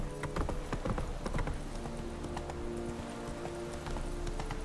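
Roach, the horse in The Witcher 3, gallops along a road with a steady, loud clip-clop of hooves that runs throughout, up close and without any talking.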